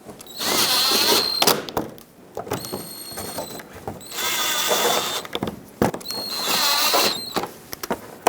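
A power tool drives screws on a 2012-2017 Toyota Camry during exhaust manifold and catalytic converter replacement. Three loud, close whirring bursts are separated by short pauses and quiet clicks, with no talking.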